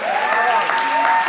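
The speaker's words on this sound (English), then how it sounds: "Give a clap offering to the Lord." A church congregation claps together as an offering during a worship service, steady dense applause filling the space close by, with no gaps in the short burst.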